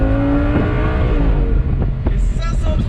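Audi R8 V10 Spyder with a 530-horsepower V10 accelerating, the engine note climbing in pitch and then dropping at a gear change, loud and close throughout, with brief talk over it.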